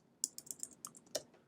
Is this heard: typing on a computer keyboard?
yes